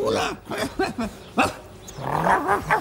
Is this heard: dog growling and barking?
yes